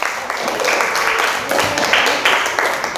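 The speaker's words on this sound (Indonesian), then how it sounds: "Tepuk tangannya mana dong? Give applause." A classroom of students applauds after presentations in an English lesson, a moderate spread of claps running the whole time, with some voices mixed in.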